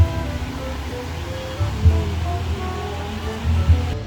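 Muddy, chocolate-brown river water flowing in a steady broad rush near a riverside stay, with a few low surges swelling briefly over the continuous wash.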